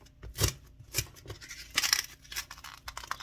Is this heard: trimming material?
yes